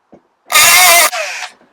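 A power drill whirs in a short, loud burst, then briefly continues at a lower, softer pitch before stopping.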